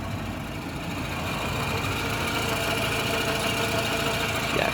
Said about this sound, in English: we can still hear some funny belt noises from this side